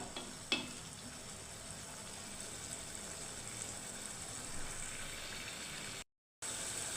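Bitter gourd and potato sizzle softly and steadily in a pan, with a single sharp utensil tap early on. The hiss continues unbroken until a brief dropout near the end.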